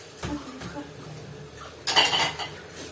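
Dishes washed by hand in a home kitchen: pots and cutlery clink and clatter in a few separate knocks, then a louder, busier burst of clanking near the end, close by and without speech.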